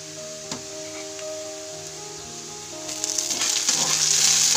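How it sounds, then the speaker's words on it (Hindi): Green chillies fry with browned onions in a pan, a soft sizzle that grows louder and hissier toward the end, with a few faint stirring knocks. No one speaks. "इसे भी 2 मिनट भून लें।"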